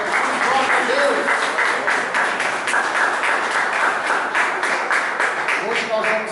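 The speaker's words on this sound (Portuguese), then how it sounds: "Dá uma salva de palmas bem forte, bem bonita para Jesus." A church congregation applauds loudly and steadily during a worship service, dense rapid clapping that fills the space evenly from start to finish with no speech over it.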